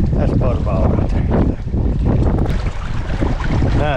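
Strong wind gusts buffet a fishing boat out on the water during bobber fishing with live minnows, a loud rough roar of wind noise over the microphone while a voice talks throughout.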